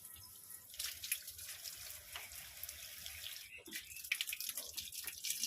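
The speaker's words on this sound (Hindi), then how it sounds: "इसलिए मैं सुबह सुबह उठ करके पानी दे रही हूँ" Tap water runs to water garden plants early in the morning, a soft, continuous splashing and trickling stream with small drips, faint and close, with no talking.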